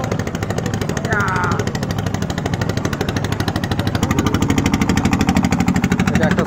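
A small engine boat passes at the Shilaidah river ghat in Pabna, its steady chugging, rattling engine close and continuous throughout.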